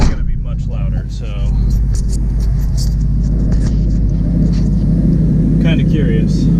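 Ford Mustang GT 5.0 with a Flowmaster exhaust, its loud, deep engine rumble holding steady close by while a person talks over it.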